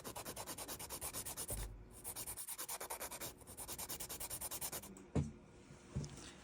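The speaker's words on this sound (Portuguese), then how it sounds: "E agora nós só vamos lixar aqui, para fazer essa área do sorriso direitinho." A nail file rasps rhythmically back and forth over an acrylic nail extension, quick even strokes close up, with brief pauses and a couple of soft knocks near the end.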